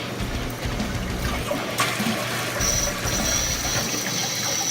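A toilet flushes and refills just after a $4 repair, giving a steady, fairly loud rush of water with a sharp click partway through and a thin high hiss of the refill carrying on to the end.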